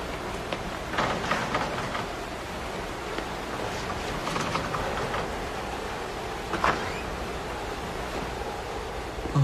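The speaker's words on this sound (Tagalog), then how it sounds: "Ay, naku, lakas talaga ng ulan." Steady heavy rain pours down as a dense, even wash of noise across the whole stretch, constant and fairly loud with no voices over it.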